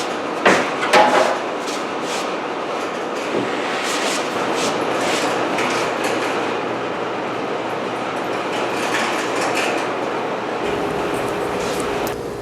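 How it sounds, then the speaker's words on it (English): A power saw steadily cuts a plywood sample out of a larger sheet, following a template for a boat seat. The cut runs close and loud for about ten seconds after a few knocks at the start, then drops to a lower whir as it ends. "take this template and cut out another sample out of a larger piece of plywood"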